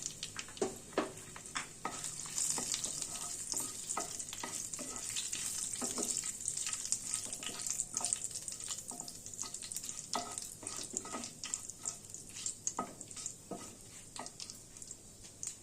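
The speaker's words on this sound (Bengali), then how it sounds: "জিরে আর হিং দিয়ে দিলাম ফোড়ন, আর শুকনো লঙ্কা আর তেজপাতা ফোড়নে দিয়ে দিলাম।" Cumin seeds, asafoetida, dried chillies and bay leaf sizzle and crackle in hot oil for a Bengali pumpkin dish, with steady frying hiss broken by frequent sharp pops and spits and some stirring, close and continuous with no talking.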